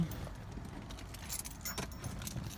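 Keys to a BMW E38 740i jangle and clink in short metallic bursts, close by, with a low background rumble and no talking.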